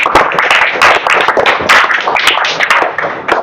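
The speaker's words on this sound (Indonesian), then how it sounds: "kita kasih tepuk tangan untuk atas" Students in a classroom applaud, loud, dense, close-sounding hand claps from many people, continuous for several seconds without speech.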